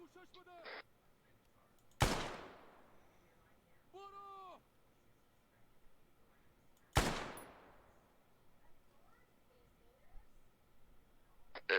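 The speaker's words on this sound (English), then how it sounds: "Sounds like mortars." Mortar fire in the military game Arma 3: two heavy booming blasts with long decaying tails, spaced about five seconds apart and fairly loud, with a short tonal radio or engine sound between them and faint background noise.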